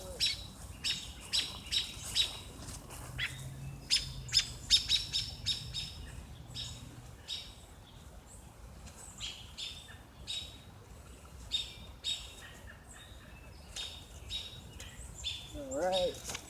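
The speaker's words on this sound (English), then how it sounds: "Yeah, record the bird too." Small birds chirp and tweet repeatedly near a nest holding a baby bird outdoors, sharp bright calls coming in quick bursts at close range, with people talking quietly now and then.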